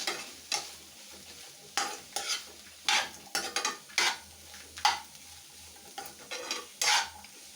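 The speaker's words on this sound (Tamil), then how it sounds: "இதையும் சேர்த்து நம்ம வதக்கிடலாம்" Spoon scrapes and stirring clatter against a frying pan as chopped coriander sautés over a steady low sizzle, with irregular bursts every second or so, close by.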